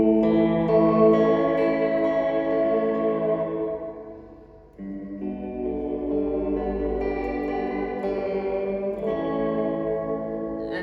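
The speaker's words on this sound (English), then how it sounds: "the sound of a 15 IPS Studio Tab Echo unit" A guitar played through a Fender Reflecting Pool pedal set to 15 IPS studio tape echo with hall reverb rings out in sustained, chorused chords with a long, smooth wash of repeats and reverb, loud and alone, with two strummed phrases.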